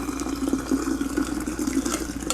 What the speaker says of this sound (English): I'm going to go ahead and strain it out into my quart jar.